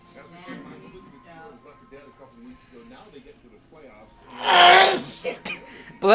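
An elderly man sneezes once, loud and close, after a stretch of quieter indoor talk between people.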